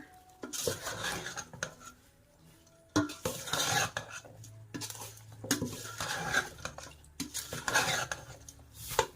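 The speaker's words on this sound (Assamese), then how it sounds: "তেল ইয়াতে ধুনীয়াকৈ মিক্স কৰি দিম এতিয়া" Mango pickle being stirred with oil in a metal pot, with repeated scraping and clanking of a spoon against the pan in bursts and a faint sizzle beneath. The stirring is close and fairly loud, with no talking.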